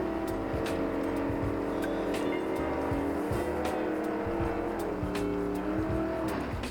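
Drag racing cars, including a Pontiac GTO or Le Mans, launch down a dragway with loud, sustained engine roar and rising revs, tire noise cutting through, a busy close racket with no talk.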